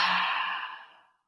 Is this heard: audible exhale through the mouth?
yes